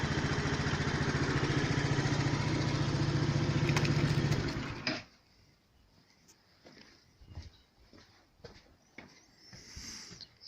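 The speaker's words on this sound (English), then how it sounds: "Usual kind of putt-putt sound of the GY6 engine." A GY6 engine on a Lexmoto Echo 50 scooter idles loudly and steadily with a low putt-putting rumble for about five seconds, then cuts off, leaving faint clicks and light handling noises.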